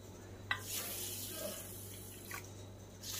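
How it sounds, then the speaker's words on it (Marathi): Water is poured over washed rice and urad dal for soaking, giving a faint, continuous trickle with a couple of soft splashes. "आपण आता त्यामध्ये पाणी घालून भिजत ठेवूया।"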